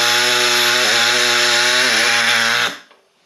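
Power tool cutting thick aluminum on a Honda Civic turbo kit gives a loud, close, sustained harsh whine with slight dips in pitch under load, then winds down and stops, leaving near silence and no talking.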